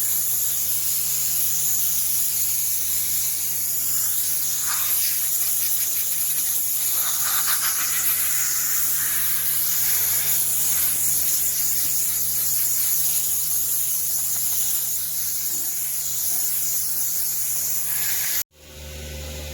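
Spray gun laying down base coat paint on Mercedes W204 C250 car parts, a continuous loud airy hiss held steady for the whole stretch before cutting off abruptly near the end.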